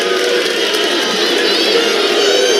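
A basketball arena crowd at a Kansas vs Oklahoma college men's game roars steadily, a dense, loud wash of cheering and noise urging on the defense, sustained throughout without pause.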